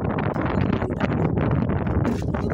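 Strong gusts buffeting a phone microphone beside a chicken house in the Kuwaiti desert, a loud continuous rumbling roar that swells and dips without pause.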